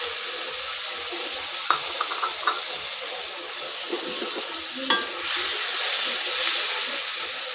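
Shrimp dropped into a pan of frying water lily stems give a steady close sizzle and hiss with a few sharp clinks and stirring knocks, the sizzle swelling louder near the end, no talk.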